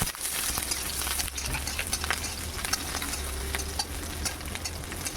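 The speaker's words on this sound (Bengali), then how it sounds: "আর রসুনটাও দেখো দিয়ে দিলাম, হালকা একটু ভাজা করে নেব" Garlic and onion frying in oil in a pan produce a continuous close sizzle with fine spattering crackles over a low steady hum, and no voices.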